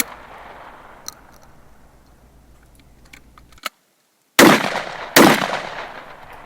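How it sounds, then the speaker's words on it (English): A Ricol short barrel shotgun fires two shots in quick succession, each a loud, sharp blast with a short decaying tail, preceded by quieter clicks and handling of the gun. "Here I am firing 2 shots and reloading."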